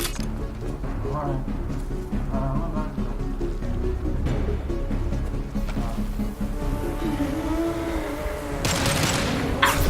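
Gunfire from the video game Mass Effect 2, with scattered bursts of shots and impacts in a busy battle mix that continues throughout alongside in-game voices and effects.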